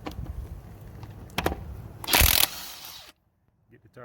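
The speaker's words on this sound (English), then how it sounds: "Nice impact driver." A 7/8 socket on an impact driver cracks off a front wheel lug nut on a rusty 2007 GMC Sierra, a loud, sharp burst of about a third of a second after some shop clatter and a few knocks, then a fade to near silence.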